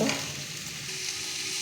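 Broad beans sauté in a hot pan with turmeric, red chili powder, coriander powder and salt, giving a steady close sizzle with soft stirring scrapes throughout and no voices.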